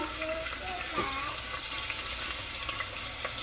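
Beef browning in a pan after being flipped, a soft continuous sizzle with occasional faint clinks and scrapes, heard at close range.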